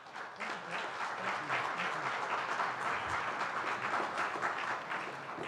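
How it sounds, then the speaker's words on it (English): Sustained, dense applause from a university audience welcoming the university president on stage, steady clapping from many hands throughout, moderately distant and without talk. "If you guys please give him a warm round of applause."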